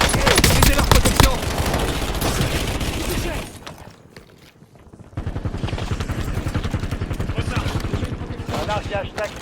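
Rapid automatic gunfire from the game Warzone rattles in dense, loud bursts, pauses briefly, then resumes in a steady stream, with a voice speaking over the shooting.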